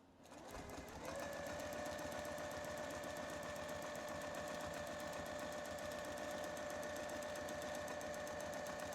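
Domestic sewing machine running steadily for free motion quilting of loop patterns on fabric, a fast continuous mechanical chatter close up after a brief start, with no talking.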